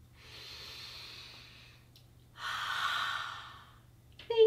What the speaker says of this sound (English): So please take a deep breath with me.